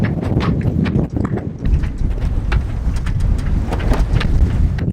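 Strong wind buffets a sailing boat off Greece, a loud, continuous roar of gusts battering the microphone with rustling and flapping mixed in, close and harsh throughout.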